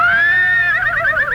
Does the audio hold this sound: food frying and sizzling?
no